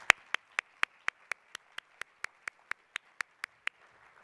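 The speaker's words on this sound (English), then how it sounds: "Let's have a round of applause for Sophia." Single crisp claps repeat at a steady, even pace, about fifteen in a row, sharp and isolated against near silence.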